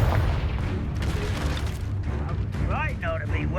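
A Confringo blasting spell explodes in the Hogwarts Legacy video game, a heavy booming rumble under game sounds and music, with a voice speaking over it.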